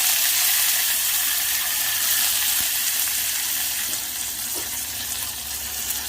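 Onions frying in oil for a ground-masala mutton gravy give a steady, loud hiss close to the pan, holding evenly and softening slightly toward the end.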